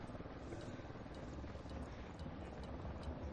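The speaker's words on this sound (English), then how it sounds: "Helicopter incoming." A helicopter's rotor in Tom Clancy's Ghost Recon Wildlands thrums steadily and faintly in the background, a constant low chopping drone with no talking.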